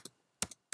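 Three quick bursts of computer keyboard keystrokes while entering an SSH login command to a Hortonworks sandbox, crisp and close with brief silent gaps between.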